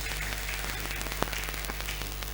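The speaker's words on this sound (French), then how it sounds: "Tobeteli nkolo maboko" A church congregation claps hands together in a dense, sustained round of applause filling the worship space, with faint crowd murmur beneath.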